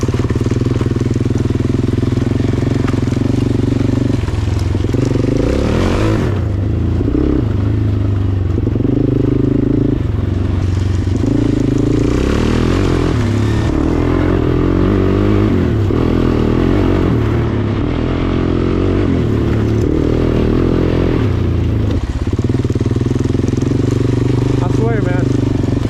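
A Suzuki LTZ-400 sport quad's 400 engine running close by, a steady loud idle that rises in several revs and falls back, with a person talking over the engine throughout.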